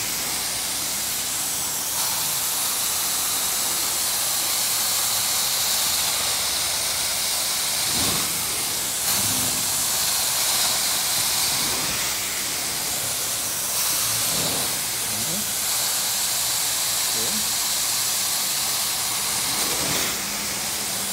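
A carpet cleaning machine rinses a wool carpet with a low pH rinsing agent, giving a steady loud hiss of spray and suction that runs throughout with brief surges and knocks.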